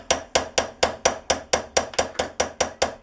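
A small tapered punch taps a Howa rifle firing pin with light metal strikes, about a dozen crisp, evenly spaced ticks, each with a short ring, close and alone.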